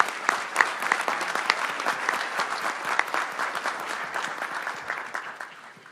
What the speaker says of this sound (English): Please join me in thanking Matt and Charlie with a round of applause.